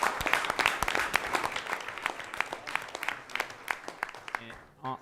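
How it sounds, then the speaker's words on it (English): An audience at an ultimate frisbee tournament event claps for the parents, a modest patter of hands with uneven, separate claps that thins out and fades toward the end. "So round of applause for the parents supporting their kids."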